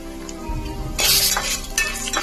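A spoon stirs ragi chivda with turmeric in a pan, making close rustling, scraping and light clinking sounds in brief bursts, with no talking.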